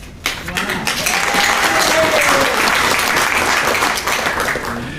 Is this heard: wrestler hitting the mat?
no